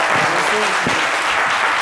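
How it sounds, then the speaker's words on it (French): Studio audience applause on a French midday TV show, a dense, steady wash of clapping filling the whole moment with no pauses, loud and close. "Applaudissements pour Salimata"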